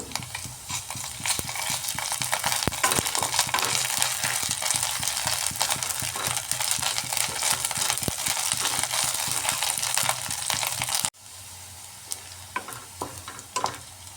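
Onions fry in a pan with a little ginger garlic paste, giving a steady loud sizzle with scraping stir strokes that drops to a quieter crackle near the end.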